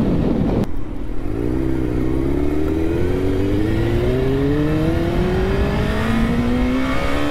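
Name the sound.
motorcycle engine running while riding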